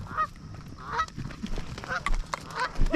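Geese honking during an early season goose hunt, several loud nasal honks repeating close and mid-distance in quick irregular bursts, with faint background rustle.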